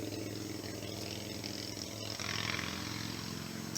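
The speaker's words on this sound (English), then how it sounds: "Looks like we got a loud motorcycle zooming by." A loud motorcycle engine roars steadily nearby, its rumble swelling slightly as it passes, with no talking.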